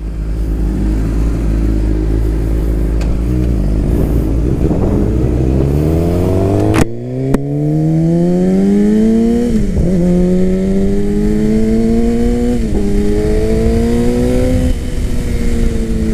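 A motorcycle ridden on a track accelerates hard and loud, its engine note climbing steadily through the gears with brief dips at each shift, close and continuous throughout.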